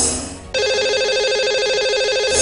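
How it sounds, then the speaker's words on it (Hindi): An electronic telephone ring sounds as a call is placed on a TV call-in show, a steady warbling tone that starts abruptly after a brief quieter moment and continues loud and unbroken to the end, with no talk over it. "तो चलिए लगाते हैं नए कॉल"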